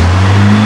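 A car running on a wheel-balancing rig produces a loud, steady engine hum with a strong low drone that stays constant over a brief moment, and no speech is heard.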